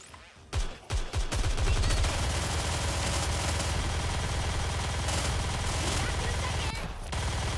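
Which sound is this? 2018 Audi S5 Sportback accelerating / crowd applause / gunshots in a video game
gunshots in a video game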